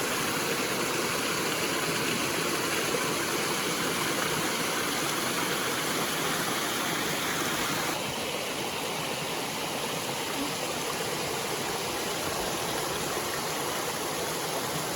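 A waterfall on the Mattawa River roars steadily and close by, a dense broadband rush that stays constant throughout with a slight drop in brightness partway through, and no voices over it.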